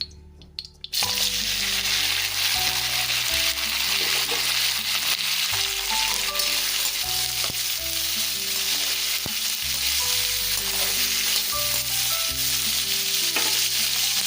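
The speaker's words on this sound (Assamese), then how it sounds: "এতিয়া কাটি লোৱা বস্তুখিনি চব দি ল'ম, অলপ ভাজি ল'ম" Loud, steady sizzling of chopped vegetables for matar paneer frying in oil with background music, starting abruptly after a brief quiet moment and continuing throughout.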